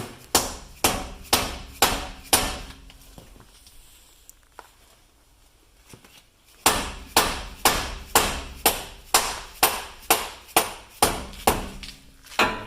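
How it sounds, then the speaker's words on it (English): Steady metallic hammer strikes drive a pin back in during front CV axle work on a 2003 Toyota 4Runner, in a regular rhythm, pause for several seconds with faint clinks, then resume in a fast, even series of blows. "And start hammering it back in."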